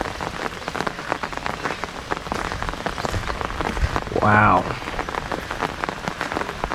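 Heavy rain pours steadily onto a flooded Thai farm in the rainy season, a dense, continuous wash of drumming drops close by, with a brief exclaimed voice partway through.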